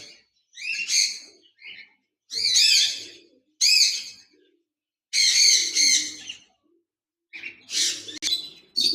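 Tame cockatiel giving a series of loud, harsh squawks and chirps in bursts with short pauses, close by and alone.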